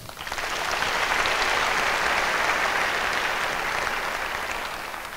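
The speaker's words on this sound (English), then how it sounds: "give Wainaina" An audience breaks into a round of applause that swells quickly, holds as a thick, even burst of clapping and then begins to taper off.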